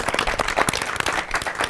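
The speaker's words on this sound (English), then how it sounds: "big round of applause for our fantastic panelists here" Applause for a panel of film crew professionals at a talk, a short burst of clapping with a crowd's claps blending into dense noise, fairly close and steady.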